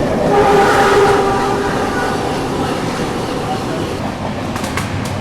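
Mumbai-Hapa Duronto express rolling at speed, a loud steady rumble and rattle of the carriages heard from inside, with brief faint higher squeals near the end.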